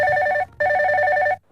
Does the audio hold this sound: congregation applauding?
no